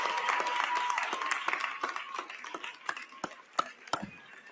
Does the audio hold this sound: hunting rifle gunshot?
no